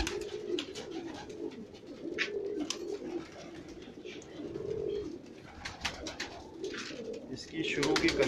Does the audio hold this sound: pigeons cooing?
yes